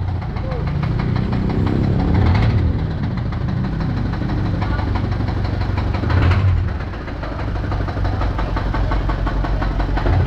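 A Kia gasoline engine idling close by with a rapid, clattering knock that persists through a loud, rumbling idle and swells slightly at moments.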